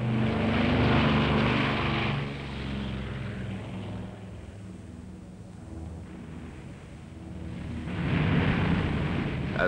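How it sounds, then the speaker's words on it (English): A propeller airplane carrying a rocket booster touches down at Cape Canaveral in 1961, its engines droning loudly, easing off midway, then surging again as the roar swells near the end. "As this plane touches down at Cape Canaveral, the booster has reached its destination."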